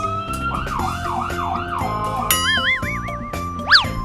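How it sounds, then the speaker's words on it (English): An ambulance siren in a children's alphabet phonics song wails in smooth, repeated up-and-down sweeps, loud and close, over a steady musical backing, with a final bright rising swoop at the end. "A, a, ambulance."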